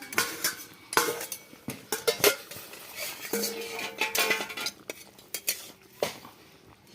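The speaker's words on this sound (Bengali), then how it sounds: "আমি ঢাকনা খুলে দেখছি।" A cooking pot lid lifted after steaming a batter for seven minutes, with a run of metallic clinks and rattles of lid and utensils, some louder knocks, close up and with no talking.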